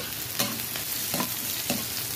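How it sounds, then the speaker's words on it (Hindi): Chopped onions and green chilies fry in oil with cumin for a lotus stem sabzi, giving a steady close sizzle broken by a few scraping stirs of the spoon in the pan. "और प्याज को तब तक भूनना है जब तक ये हल्के पिंक नहीं हो जाते।"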